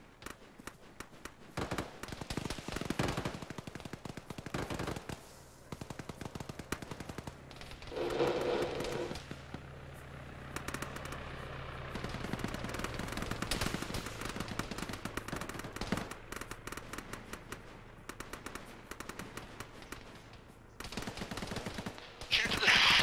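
Rapid bursts of rifle and machine-gun fire in a ShackTac military video game firefight in woods, crackling shots near and far with gaps and a smoke grenade hiss, under occasional radio chatter.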